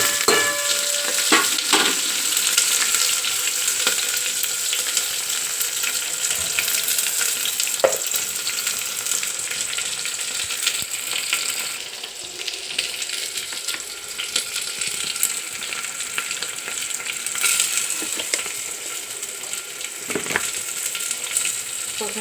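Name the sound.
onions frying in a pan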